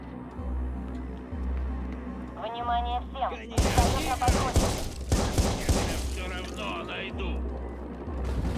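Video game gunfire in Watch Dogs: Bad Blood, a dense burst of overlapping shots and rattling automatic fire erupting mid-scene over a low droning background, with character voices speaking before and after.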